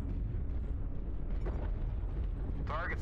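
Artillery strike explosions in the Mechwarrior video game rumble as a continuous, heavy low-end barrage, close and loud throughout, with a brief higher-pitched whine near the end.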